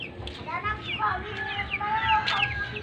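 Chickens cluck and squawk in a steady, overlapping chorus, moderately close, with a faint murmur of voices under the birds.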